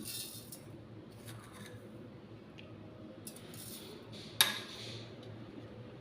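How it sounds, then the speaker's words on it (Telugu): Ice cubes dropped into a blender jar of beetroot juice, giving a single sharp clink near the middle and faint rattles around it in a quiet kitchen. "ఐస్ ముక్కలు కూడా వేసుకుంటున్నానండి."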